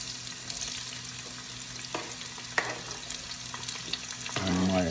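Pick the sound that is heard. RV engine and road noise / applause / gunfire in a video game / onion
onion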